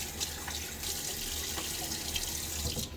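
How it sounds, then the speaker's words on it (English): Water runs from a bathroom sink tap and splashes as a face is wetted before a wet shave, a continuous close rushing stream with brief splashes and no talking. "let us splash my face"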